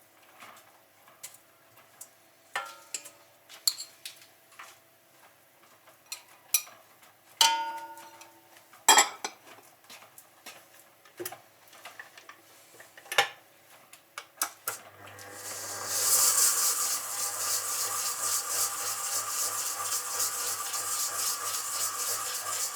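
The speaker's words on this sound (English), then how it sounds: "So I've mixed the sugar and butter." Sugar and butter being creamed for a butter cake. Scattered clicks and taps come first, then an electric mixer starts with a steady, close whirring drone and a low hum that runs to the end.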